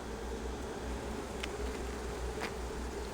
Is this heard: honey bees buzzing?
yes